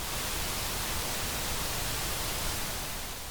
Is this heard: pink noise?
yes